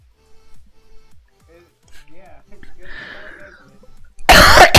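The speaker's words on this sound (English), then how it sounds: "I need a break from coughing." A Minecraft Create mod player coughs and clears his throat while recovering from a cough, with scattered quiet sounds and speech-like noises before a sudden loud, harsh burst near the end.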